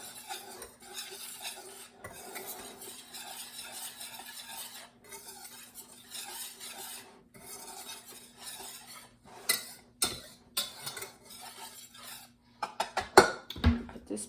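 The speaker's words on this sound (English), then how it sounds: "so now we have our spices, and then we're just going to stir up all of" A spoon stirs spices and dry ingredients together in a bowl for pumpkin bread, making steady scraping and rustling strokes close up, with a few sharper clinks of utensils near the end and no talking.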